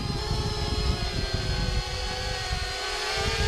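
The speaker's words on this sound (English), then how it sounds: "Drone is battling it." A fishing drone flying over a lake while fighting a hooked bluegill gives a steady, loud propeller whine with layered buzzing tones and no talk.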